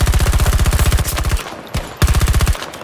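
Automatic gunfire in the video game Battlefield 2042: two long rapid bursts of machine-gun fire, loud and close, separated by a brief pause.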